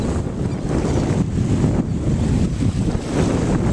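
Surf rolls and breaks steadily on a Gulf Coast beach while strong wind buffets the microphone, a loud continuous rush with no voices.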